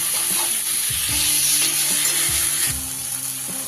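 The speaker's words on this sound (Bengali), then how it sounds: "আদা রসুনের কাঁচা গন্ধ চলে গেলে এখানে দিয়ে দিচ্ছি বেশ বড় সাইজের একটা টমেটো কুচি" Chopped tomato sizzles steadily in a hot pan with ginger, garlic and green chilli paste, with occasional utensil stirring knocks and scrapes close by.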